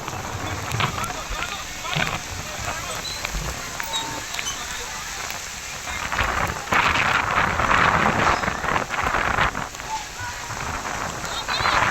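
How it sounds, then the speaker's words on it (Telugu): Dense, crackling patter of heavy rain on surfaces at an outdoor political rally ground fills the clip, steady and close, growing louder midway with scattered sharper drops. "మేమంతా సిద్ధం సభ జరగాల్సిన ప్రాంతంలో భారీగా వర్షం కురుస్తూ ఉంది"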